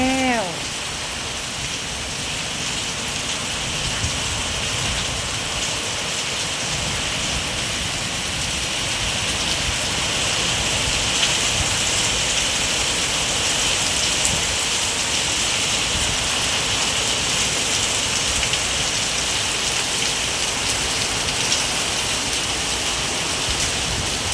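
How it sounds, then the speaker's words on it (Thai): Heavy rain falling near a roadside, a constant dense hiss of drops striking surfaces that stays loud and even throughout, with no clear talking over it. "ตกเยอะแล้วจ้า นะคะละอองฝน"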